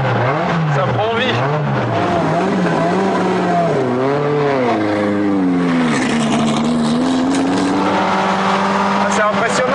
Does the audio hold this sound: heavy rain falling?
no